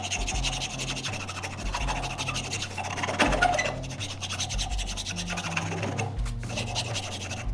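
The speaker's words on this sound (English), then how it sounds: "occasionally you need to clean your file with a wire brush" A wire brush scrubs shavings out of a woodworking file while shaping a mortise-and-tenon mallet, giving steady close scratching and rasping strokes, continuous and fairly loud, with no talk.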